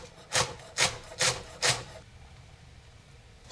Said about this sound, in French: Je les hache finement.